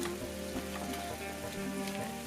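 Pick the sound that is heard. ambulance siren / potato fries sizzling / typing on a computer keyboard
potato fries sizzling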